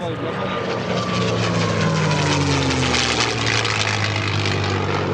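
A P-51 Mustang warbird at EAA AirVenture 2024 runs its piston aircraft engine, a loud steady propeller drone with a slowly shifting pitch that fills the scene from start to finish.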